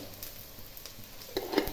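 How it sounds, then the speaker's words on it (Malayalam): Mustard seeds spluttering in hot coconut oil with onions for a Kerala chicken curry, a soft steady frying hiss broken by a few sharp pops near the end, close and alone. "കടുകൊന്നും ഇങ്ങനെ പൊട്ടിക്കോട്ടെ"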